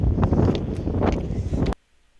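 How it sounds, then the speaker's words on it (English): Strong wind on a high outdoor stairway buffets the microphone in a loud, steady roar with gusty surges, then cuts off abruptly into near silence. "it gets way windy the more you go up. Like windy. Like this is what you hear right now."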